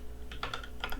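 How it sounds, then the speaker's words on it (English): Code is typed on a computer keyboard: a brief, soft cluster of a few keystrokes heard close but faint. "I'm going to type it out actually."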